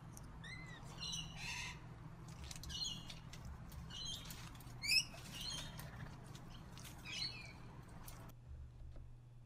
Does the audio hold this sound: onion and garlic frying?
no